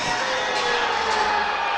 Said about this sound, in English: A loud cheer.